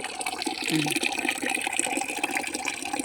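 Tap water runs steadily into a container in a Bengali home while a plant is being potted, a continuous splashing pour that holds at an even level throughout.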